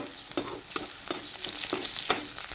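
Panch phoron spices with onions sizzle and crackle in hot oil as a utensil scrapes the pan in a steady rhythm, about five sharp stirring knocks over a constant close frying hiss, with no voices.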